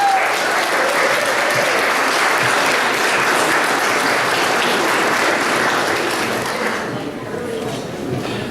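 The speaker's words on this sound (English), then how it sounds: "So let's give a round of applause for those volunteers." An audience at an amateur art exhibition applauds its volunteers, a steady, dense wash of clapping that carries on for several seconds before thinning slightly near the end, with faint voices mixed in.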